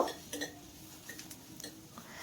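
Fried onions being stirred in a pan for a bitter gourd (karela) fry, a few soft scraping and clinking strokes of a utensil against the metal, moderately close and fairly quiet, with no talking.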